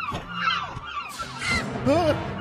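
Large sea birds call in an animated scene, giving several honking, goose-like cries in a short burst. The calls are close and fairly loud, with some background sound between them.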